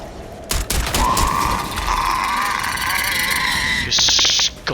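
Rapid gunfire from a scoped weapon in the video game Starfield, a dense continuous burst of shots with mechanical clatter and a sharp high-pitched tone near the end.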